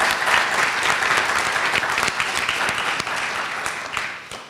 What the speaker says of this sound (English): I'd like to ask if we could give them a round of applause too